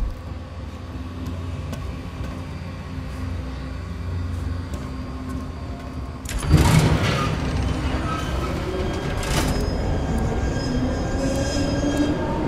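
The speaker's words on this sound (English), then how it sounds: "So the train is moving." A moving train rolls steadily with low rumble and wheel clatter, surging louder about halfway through with a squealing, rattling burst before settling into a continuous close rumble. The setting is a monastery area in the Unholy video game.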